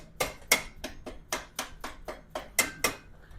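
A brake pin is lightly tapped through the caliper bushing on a Lifan KPM/KPR rear brake, about a dozen crisp, close metallic taps in a steady rhythm.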